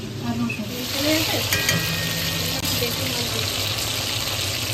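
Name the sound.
fish frying in a pan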